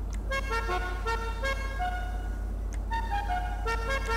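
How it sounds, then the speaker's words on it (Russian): A car horn from Grand Theft Auto 5, heard in a vehicle tuning menu, sounds several short tonal honks in bursts over a steady low engine hum. "Клаксон."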